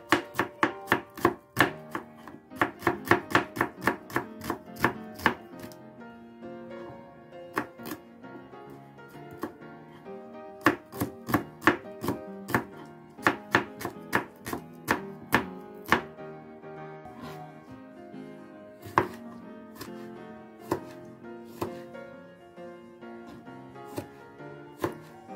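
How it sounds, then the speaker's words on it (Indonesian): Garlic, shallots and galangal being sliced thinly with a knife on a board, producing rapid runs of sharp, close chopping taps broken by short pauses, with no talking. "Bumbunya akan kita iris-iris aja. Kita iris-iris tipis-tipis."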